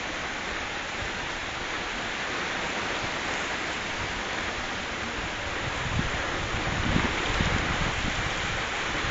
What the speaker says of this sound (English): Pretty freaking windy out here.